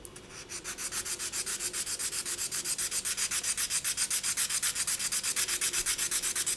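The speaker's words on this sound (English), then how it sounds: "we just want to be sanding this very edge over here" Resin jewelry edge being sanded by hand with 400-grit sandpaper, a steady run of rapid, even back-and-forth scratching strokes, close and loud with no talking.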